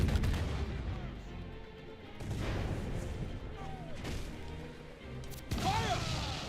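Ship cannons booming during a naval battle in a pirate video game, several heavy blasts spread across a few seconds amid battle noise, with voices shouting over the din.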